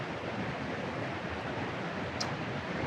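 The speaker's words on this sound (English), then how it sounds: "waterfall is basically the same." A river and waterfall give a steady, even broadband roar of rushing water, with no voices and only a tiny click near the end.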